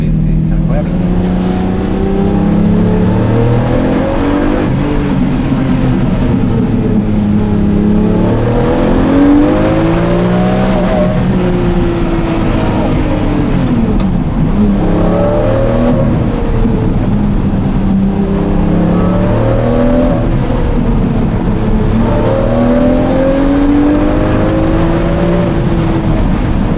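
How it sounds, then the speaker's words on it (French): Lamborghini Murciélago LP-580 with a V12 and manual gearbox, heard from inside as the engine revs hard under acceleration, its loud, rising tone climbing repeatedly through the revs, with people talking over it. "On va essayer de faire une accélération où on va monter un peu dans les tours pour que vous entendiez jusqu'à combien ça monte"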